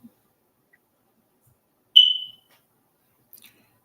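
A smoke alarm lets out one short, piercing electronic chirp in an otherwise silent room, followed a moment later by a faint second blip.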